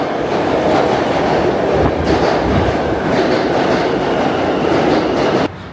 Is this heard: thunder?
no